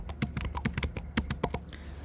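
Quick, crisp keystrokes clatter on a computer keyboard as Java code is typed, a close, steady burst of tapping with no voices.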